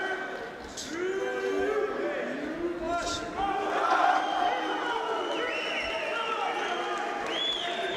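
Crowd at a live professional boxing event, a sustained roar of cheers and chanting that rises to a peak midway and stays loud, with commentators talking over it.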